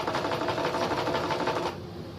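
Sewing machine stitching along cloth cut from a bedsheet to make reusable tissues, a steady rapid mechanical whir with fast even needle pulses that slows and quiets near the end.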